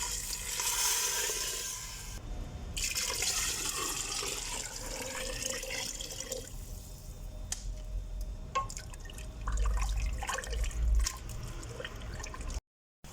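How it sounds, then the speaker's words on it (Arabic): Hot water is poured into a cooking pot, a soft, steady splashing and trickling that comes and goes, quiet and close with no talking. "هبدأ اضيف الماء الحار."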